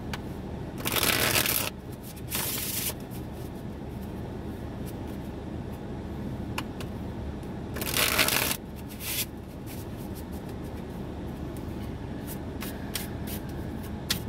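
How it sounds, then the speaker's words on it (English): A deck of cards being shuffled in crisp riffle bursts, two longer ones near the start and middle and a few shorter flicks between, fairly close over a steady low background hum with no talk. "Let's get a little good shuffle"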